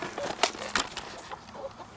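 Chickens cluck inside a coop in a few short, fairly close bursts over a low background, with no talk.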